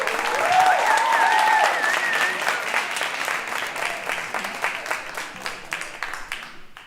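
An open mic crowd at The Spirit Gates keeps clapping for a performer, dense applause fading gradually into thinner, scattered claps by the end, with faint voices mixed in early.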